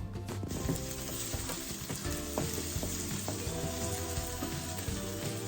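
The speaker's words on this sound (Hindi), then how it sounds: "फिर यहाँ पे हम ले लेंगे चॉप्ड किया हुआ एक अनियन, उसको डाल के हल्का सा भुनेंगे।" Chopped onion frying in a pan for South Indian upma, a continuous close sizzle with faint stirring scrapes, steady throughout without any talk.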